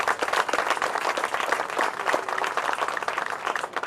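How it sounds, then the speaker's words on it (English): Crowd applauding the Parks and Recreation Department at an outdoor pool opening ceremony, a dense, sustained patter of many hands clapping at moderate distance, steady for the whole stretch. "give another round of applause to our Parks and Recreation Department"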